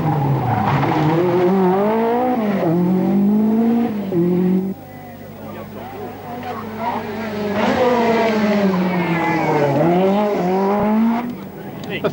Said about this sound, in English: Jean Ragnotti continues to lead in the Renault